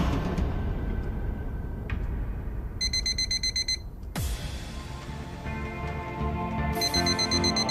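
A busy background of noise with bursts of a high, pulsing electronic alarm beeping in repeated rapid trains, fairly loud, plus a sudden sharp swish.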